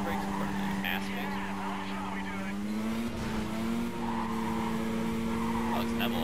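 In Need for Speed: Carbon, a car brakes and skids amid the constant loud hum of race car engines, with a brief tire squeal near the middle and engine pitch shifting, while someone talks over it.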